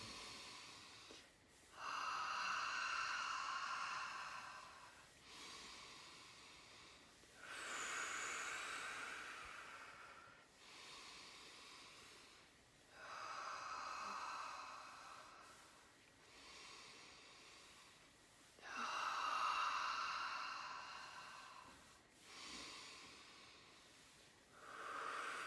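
Deep, slow breaths drawn in and pushed out during a breathing exercise, five long hissing cycles each lasting a few seconds with short pauses between, close and fairly quiet, no talking.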